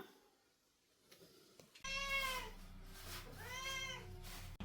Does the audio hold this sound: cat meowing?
yes